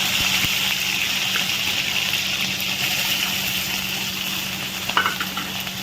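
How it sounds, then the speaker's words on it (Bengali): Shrimp coated in salt and turmeric fry in hot oil with a loud, continuous sizzle that carries on throughout, with a few sharper pops near the end. "এবার আমি চিংড়ি মাছগুলো আস্তে আস্তে দিয়ে দেবো।"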